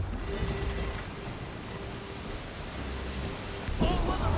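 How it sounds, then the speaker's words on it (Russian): A storm in the video game Assassin's Creed 4: Black Flag, with a ship sailing through it: steady heavy rain and a deep rolling thunder rumble that swells louder near the end. "Идти со сломанным кораблем в шторм."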